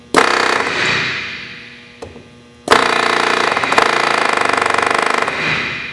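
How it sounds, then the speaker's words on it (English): A pneumatic rivet gun fires against a wood block while its strength is set, giving a long rapid hammering burst, a short blip, then a second sustained rattling burst, loud and close. "going to set the strength of my rivet gun"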